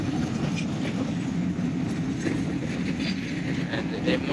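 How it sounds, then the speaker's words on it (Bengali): Indian BC freight wagons roll across the Darshana rail gate crossing, a steady loud rumble of rolling stock with faint clickety-clack from the wheels, continuous and close throughout. "Indian BC Darshana rail gate cross করছে।"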